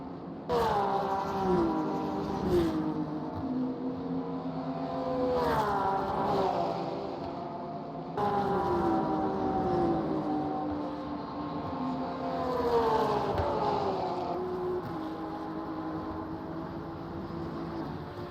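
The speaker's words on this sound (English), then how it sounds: "There were the two Porsches coming into shot." Two Porsche GT3 race cars at Fuji pass close together, their engines loud and steady, with harmonic tones that rise and fall through gear changes and sharper swells as each car goes by.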